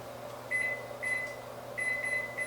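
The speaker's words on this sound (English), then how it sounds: "So I'm setting the timer for 3 minutes." A kitchen timer being set in a home kitchen gives short high electronic beeps: a single one, another soon after, then a quick run of two or three, heard clearly over a low steady hum.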